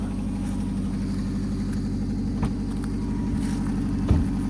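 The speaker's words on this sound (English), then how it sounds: "Exhaust manifold leak. No big deal, probably just needs a gasket." Idling car engine, a Honda Civic or Toyota Camry, with an exhaust manifold leak, giving a steady rough rumble with a ticking pulse close by, plus a couple of faint knocks and no voices.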